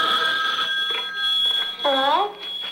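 In a recorded clip, a telephone rings with a steady electronic tone, then a short warbling ring follows, fairly loud and close.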